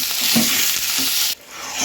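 Mashed young bottle gourd leaves with a little sugar are stirred in a hot pan, giving a steady close scraping and sizzling that cuts off sharply near the end, then resumes faintly, with no voices.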